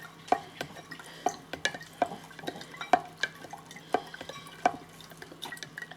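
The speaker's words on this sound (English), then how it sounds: "let's stir that again" A spoon stirs Demerara sugar into water kefir in a glass jar, giving about eight clear, separate clinks against the glass at a slow, uneven pace, close and quiet, with no talking.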